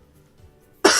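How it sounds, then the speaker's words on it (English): A single abrupt throat clearing, short and close, erupts suddenly after near silence. "Can I prevent myself from clearing my throat?"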